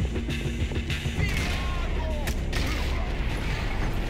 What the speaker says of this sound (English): it's definitely an auto shotty